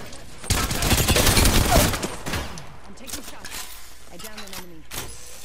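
Rapid bursts of gunfire in a battle-royale video game, a loud dense volley at first that fades into scattered distant shots, with a player's voice speaking over it.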